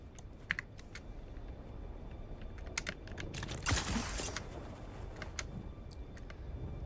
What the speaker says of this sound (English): You can hear me typing